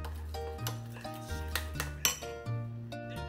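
Dak galbi sauce is stirred in a bowl, with a utensil repeatedly clinking and ringing against the bowl in an uneven rhythm, close and fairly quiet, each strike leaving a short metallic tone.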